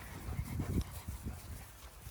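A dog whimpers softly in short, repeated whines and yips, close by and fairly quiet, with no clear talk over it.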